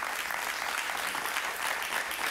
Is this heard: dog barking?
no